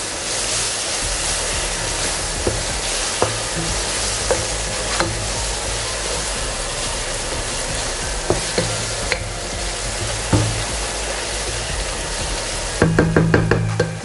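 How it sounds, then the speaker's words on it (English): Biryani masala with tomato and onions is stirred in a pot, a steady sizzling hiss with occasional spoon scrapes, ending in a brief cluster of sharp clinks. "I'll add the entire masala. Give this a nice stir."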